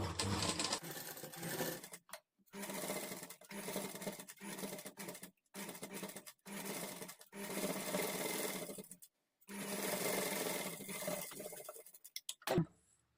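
A sewing machine runs in long bursts, stitching a princess cut blouse with invisible thread, its rapid, steady whir stopping briefly between runs and ending with a faint click.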